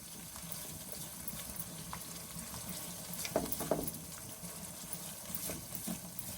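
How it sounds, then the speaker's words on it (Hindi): Fresh milk cream fries with masala in a pan, a soft steady sizzle with a short burst of stirring and scraping near the middle, fairly quiet and with no voices. "अब इसको भी हम इस तरह भूनेंगे ताकि ये भी अच्छी तरह से भुन जाए।"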